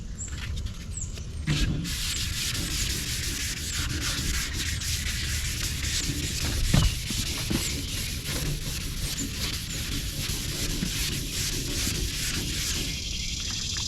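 Steady, continuous rasping of a sanding block rubbed over painted metal during a custom Rust-Oleum silver metallic refinish, with a brief harder scrape partway through and no talk.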